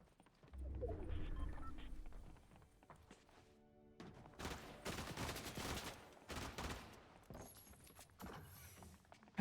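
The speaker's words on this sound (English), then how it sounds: "I hear shots." Video game gunfire rings out alongside footsteps and thuds: a quiet opening, then a dense stretch of sharp broadband shots and impacts, mid-distance and faint overall.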